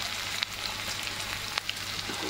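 Onions sizzle softly in a pan, a brief steady crackle with a few small clicks, close and faint, with no talk.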